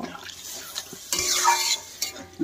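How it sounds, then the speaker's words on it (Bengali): Spice paste is stirred in a cooking pot for a pumpkin and vegetable curry, with brief scraping and clinking of a spoon against metal and a short wet sizzling burst, close and without talk. "গুলিয়ে রাখা মশলাগুলো দিয়ে ভালো করে নেড়ে সামান্য জল দিয়ে ফুটিয়ে নেব"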